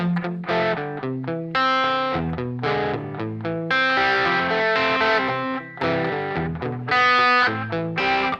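Electric guitar played through an effects pedal set for slight overdrive breakup, a steady run of plucked notes and chords with a mildly gritty edge, loud and close with no talking.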